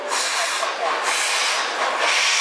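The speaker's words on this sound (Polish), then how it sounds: "Uniwersalny czeski parowóz do prowadzenia pociągów osobowych, zbudowany w 1947 roku." A Czech universal passenger steam locomotive, number 475 101, built in 1947, at the 2012 steam locomotive parade in Wolsztyn, gives off a loud, steady broadband hiss of steam that persists through the whole moment.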